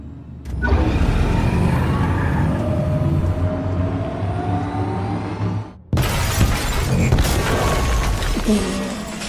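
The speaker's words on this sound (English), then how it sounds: "that glass effect in front of the vehicle is not very good, but for when it came out, it's fantastic." Glass shatters in front of a vehicle in Detroit: Become Human, with loud crashing and engine roar. A sharp cut near the middle brings a second burst of breaking debris.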